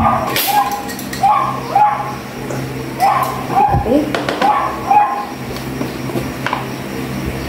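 A dog barks and yips in short repeated bursts, close by, while people talk over it with dishes and household noise in the background.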